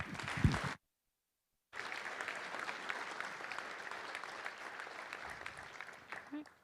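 A community meeting audience claps together for several seconds, a fairly distant wash of applause that follows a short spoken remark and a brief silent gap, then fades near the end.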